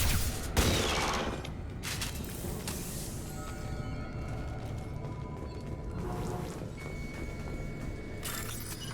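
Video game firefight with scattered gunfire: a sharp burst near the start, then faint intermittent shots and tonal electronic sounds over a steady rumbling background, with a few more cracks near the end.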